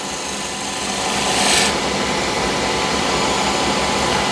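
A sharpened hand scraper pulls fine, web-thin shavings from a wood surface, producing a continuous close, loud rasping hiss that swells slightly partway through.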